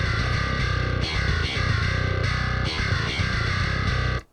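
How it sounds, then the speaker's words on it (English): A djent bass plugin on its grit tone with the drive pushed almost fully up chugs heavy, saturated low riffs in short bursts, loud and alone before cutting off at the end. "But the grit sounds like this, with the drive almost all the way up."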